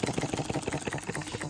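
A small engine with a governor runs at a steady, rapid pulsing beat, close and fairly loud, with no voices over it.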